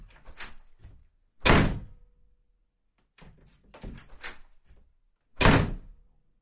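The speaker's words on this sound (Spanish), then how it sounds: "la puerta accidentalmente se cerró con seguro" A heavy cold storage room door at a meat factory closing and locking, heard as several loud, close thuds and slams with clunks and quieter rattling in between.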